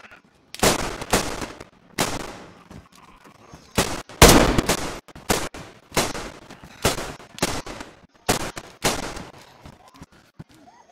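Gunfire in the survival game DayZ rings out in sharp, loud bursts, roughly a dozen single shots and short volleys spaced irregularly, some echoing, with quiet gaps between them.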